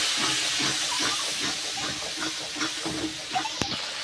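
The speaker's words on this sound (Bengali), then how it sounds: "মশলাটা ভালো করে আবার কষিয়ে নেব।" Spice paste for rohu fish curry sizzling in hot oil after a splash of water, a steady broad hiss with soft crackles and a brief sharp clink near the end.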